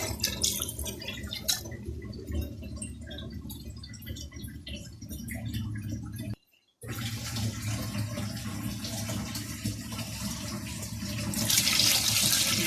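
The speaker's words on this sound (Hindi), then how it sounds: "पानी इसमें कितना जाएगा। ये एक छोटा जग, ये देखें, ये भर के भी मैं एक इसमें डाल रही हूँ" Water splashes and pours steadily from a small jug into a pot of nihari, close and continuous, with a brief gap midway before the pouring resumes and grows louder.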